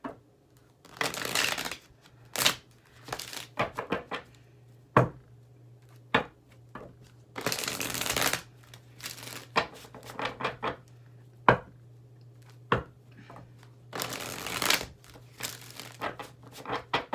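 Tarot cards are shuffled in a quiet room, with several bursts of papery riffling and soft taps of the deck between them. No one speaks.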